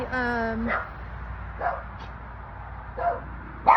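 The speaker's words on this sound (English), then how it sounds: "I'm so distracted with these dogs. They're just all over the place, barking at the caretaker next door" A few short dog barks and yips pop up in the background over a steady low hum, with a whining note near the start.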